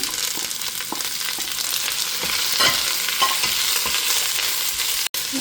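Sliced onions frying in a pan with garlic and ginger, a loud, steady close hiss of sizzling oil with soft stirring scrapes and one brief sharp knock near the end, no speech.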